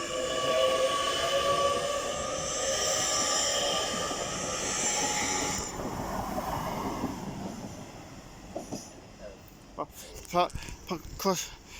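A class 802 East Coast passenger train roars past at close range at Durham station, a broad steady rumble that fades after several seconds, followed by people talking nearby.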